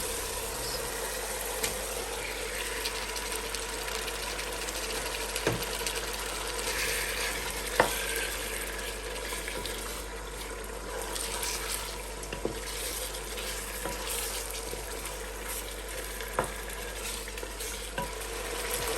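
Chicken frying in a roasted spice masala for a Pakistani matar pulao, a continuous even sizzle with occasional light scrapes and clinks of a spoon, close and steady with no talk.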